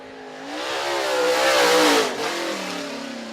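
UMP late model race car at Merritt Speedway roaring past on a qualifying lap, a loud revving engine that rises as it nears, peaks, then dips and fades slightly as it pulls away, no talk over it.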